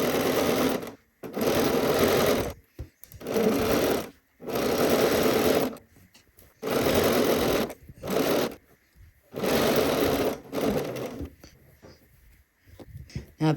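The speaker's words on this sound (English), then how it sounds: "So now we're going to sew" A home sewing machine stitches around a dress pocket on a Cashmerette Loring dress in about five close, loud runs of steady whirring, each stopping abruptly before a short quiet pause.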